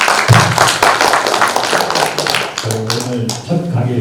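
A room full of people applauding, dense rapid clapping at close range, with a voice speaking over the last part.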